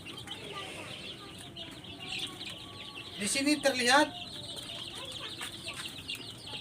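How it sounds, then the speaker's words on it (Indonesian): Young chicks in a brooding pen on a small poultry farm keep up a busy chorus of high cheeps, with a louder cluster of chirps midway, while someone talks over them. "Ini anak-anak ayam masa proses pembibitan"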